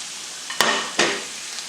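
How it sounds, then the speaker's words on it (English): Salmon pieces dropped into a hot pan give two sharp sizzling bursts in quick succession over a soft background frying hiss, close and fairly loud. "we're going to add our salmon in there"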